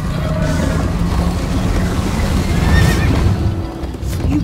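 A horse whinnies loudly over steady galloping hoofbeats and a rushing, noisy background in the video game Minecraft: Story Mode.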